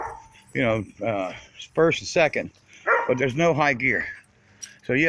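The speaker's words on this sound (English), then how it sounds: "And there's my dog" A dog barks a few times beneath ongoing conversation, near and moderately loud, while someone talks about an old four-cylinder automatic car that needs transmission work.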